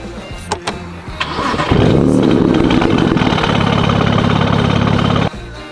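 A BMW 335i E92 with a 3-litre twin-turbo petrol engine and a very loud exhaust starts up with a sharp bark, then settles into a deep, rough, throbbing idle before cutting off.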